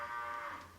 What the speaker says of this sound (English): Sorry, the cow.